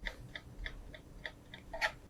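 Regular ticking clicks, about four per second, sound slightly tinny and amplified, as if played through a small speaker, with no talking.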